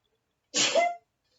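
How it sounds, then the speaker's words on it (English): A single short sneeze, close and sharp, bursts out of near silence. "And I'm going to sneeze."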